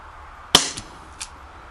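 A Gletcher CLT B25 CO2 BB revolver fires one sharp, loud shot with a short decaying tail, followed by a faint metallic tick and a small click a moment later.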